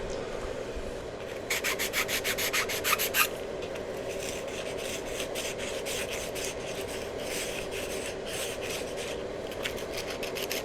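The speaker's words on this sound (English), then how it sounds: "I'm going to have to sand it down a little bit better" Edges of an Estes Sasha model rocket part are sanded by hand, with rhythmic rubbing strokes, a quicker burst early on and then steadier scraping, close and fairly quiet.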